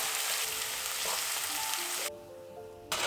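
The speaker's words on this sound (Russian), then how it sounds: "Отправляю лук в горячее масло и обжариваю буквально пару минут." Chopped onion dropped into hot oil sizzles loudly and steadily, with a bright hissing fry that drops back for a moment before surging again at the end; no voices.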